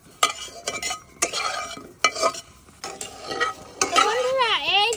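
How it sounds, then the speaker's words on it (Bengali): Pointed gourd (potol) pieces frying in oil over medium heat while a spatula stirs them, giving repeated scraping strokes over a steady sizzle, close and fairly loud, with no speech. "ভালোভাবে ভেজে নিচ্ছি পটলগুলো"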